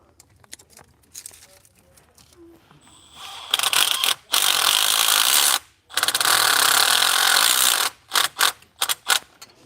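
A ratchet tightens bolts during a camshaft install on an engine in a shop. A few soft clicks lead into long, loud, continuous ratcheting runs, then a handful of separate clacks, all close by.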